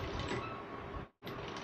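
A sewing machine stitching around a kurta neckline, a steady close mechanical whir that cuts out abruptly for a moment near the end and then resumes.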